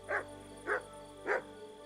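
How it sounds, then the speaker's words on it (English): A dog in the medieval role-playing game Kingdom Come: Deliverance II barks three times, evenly spaced and fairly close, over a quiet background hum. "Stop barking."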